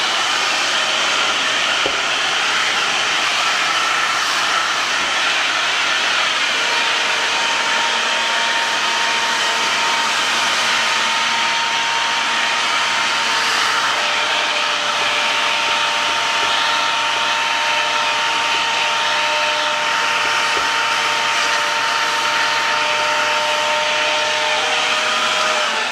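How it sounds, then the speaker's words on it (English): A vacuum cleaner runs loud and close while cleaning a Roomba i7, with a continuous roaring whine that stays steady and unbroken throughout. "Let's go ahead and vacuum it up."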